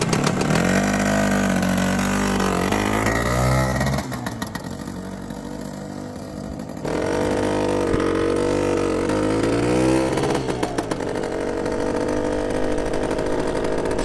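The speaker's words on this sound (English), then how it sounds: "Right, let's get my lid on. I'm looking forward to taking this round the yard." A Suzuki RV125 two-stroke sand bike is ridden around a yard, its engine droning loud and close with rising and falling revs, easing off for a few seconds before pulling strongly again.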